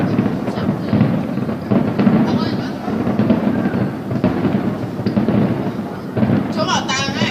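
Fireworks go off over a city square near a museum as a dense, continuous rumble of booms and crackles, with people talking nearby over the blasts.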